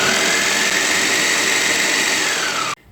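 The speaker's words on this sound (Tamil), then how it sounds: "இந்த சாப்பரில் போட்டு நம்ம இந்த வெள்ளரிக்காயை கட் பண்ணி எடுத்துடலாம்." An electric chopper running with cucumber inside, a loud steady motor whir with a high whine that drops slightly in pitch before cutting off abruptly.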